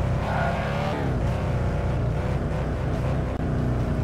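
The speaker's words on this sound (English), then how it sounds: "I should really get some work done on this car. It is very loud." Loud, rough car engine in the VR game Thief Simulator, droning steadily and up close throughout, with a brief dip near the end and no talk over it.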